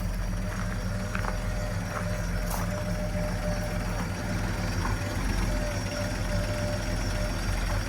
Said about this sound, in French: Un échappement latéral. Et vous voyez que ça tourne très bien.